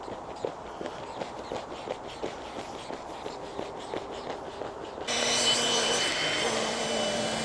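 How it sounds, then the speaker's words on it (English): A Flextail electric air pump switches on and drones steadily, loud and close, inflating the sleeping pad of a Night Cat Lay Flat hammock tent after a stretch of quieter handling noises. "I will use the flex tail pump just to get it up that bit quicker"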